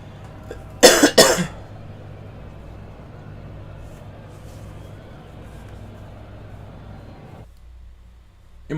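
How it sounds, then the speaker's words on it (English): Two or three sharp coughs in quick succession, close and loud, early on. After them comes a steady low rumble of a race car engine from a Ferrari 458 sim race at Spa. "You might hear a lot of coughing and sneezing and me needing to blow my nose because of allergy stuff"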